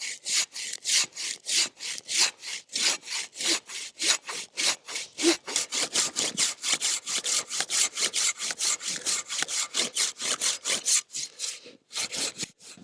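A hand saw cuts through wood in a fast, even back-and-forth rhythm, each rasping stroke close and clear, repeating dozens of times with a brief pause near the end.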